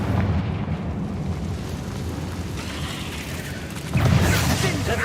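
Blasting-spell explosions in Hogwarts Legacy gameplay, a steady roar of rumbling booms and crackling debris with a louder burst near the end, over game music.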